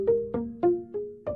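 Muted piano notes from the Woodland Piano Kontakt instrument with the sustain pedal up, five short plucked, pizzicato-like tones in a steady, slightly uneven rhythm, each dying away quickly, played alone.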